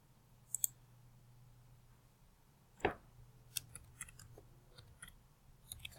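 A few sharp, scattered clicks and taps like keyboard keys and a mouse, quiet and close, with long silent gaps between them.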